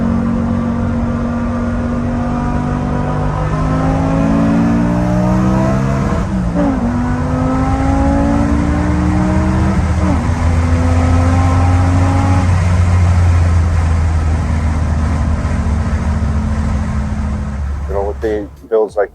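A BMW E46 M3 with a swapped-in S85 V10 engine revs up close and very loud. Its high, rising howl climbs through the gears, drops back to a lower drone, then fades out at the end.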